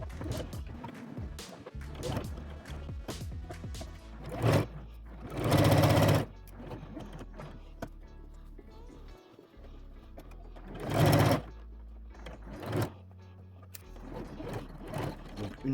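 A sewing machine stitches a zippered pouch with a lining, running in several loud bursts of rapid mechanical whirring, separated by quieter pauses.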